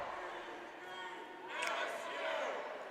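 A volleyball crowd at a BGSU Falcons versus Cleveland State match chants and cheers in a large gym, a steady, faint mass of voices that swells briefly midway.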